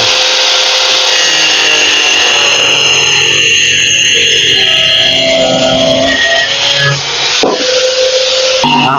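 Roofing material being cut for a house stairway roof, a steady rasping, grinding cut running continuously and fairly loud up close, with a brief pause near the end before resuming.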